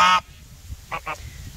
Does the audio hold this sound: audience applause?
no